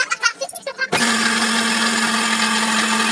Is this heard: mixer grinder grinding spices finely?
yes